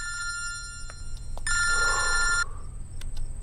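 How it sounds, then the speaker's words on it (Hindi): A telephone bell rings in a loud sustained burst amid faint intermittent ringing tones, close by with no talking. "फोन उठा, मेरा फोन उठा।"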